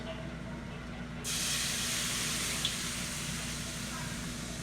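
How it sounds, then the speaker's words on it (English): Wine poured into a hot pan with a chicken-and-dumplings roux base, bursting into a sudden loud, steady steam hiss that holds for several seconds. "I'm going to just drop a tiny bit of wine in there just to deglaze."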